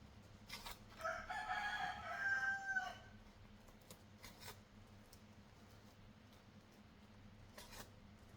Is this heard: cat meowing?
no